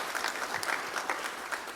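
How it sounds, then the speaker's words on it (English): Audience applause at a Battleship South Dakota memorial gathering, a dense, steady patter of many hands clapping throughout, fairly close and with no talking over it. "Round of applause."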